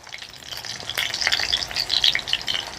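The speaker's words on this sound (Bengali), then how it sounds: "উল্টাইয়া পাল্টাইয়া চারিদিকে ক্যাপসিকামটা ভাজা লাগবো" Stuffed capsicum frying in a pan sizzles close up, crackling and hissing steadily as pieces are turned, with brief scraping stir sounds and no voices.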